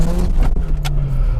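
Car with a welded differential revving hard during skids, a loud close engine roar with a steady pitched drone and brief bursts of tire or exhaust noise.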